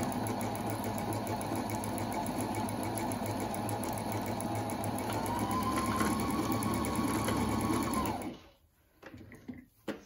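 A Husqvarna 230 Electronic sewing machine stitches in a steady, fast mechanical whir with a rapid needle rhythm, close up and continuous for about eight seconds before stopping abruptly, followed by a few faint clicks.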